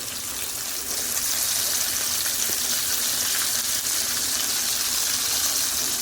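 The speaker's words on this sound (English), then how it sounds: "they've been frying for about 2 minutes on each side, so they're crispy" Steady, close sizzling and crackling of potato and cheese tacos frying in hot oil, a constant hiss that swells slightly after the first second and holds level.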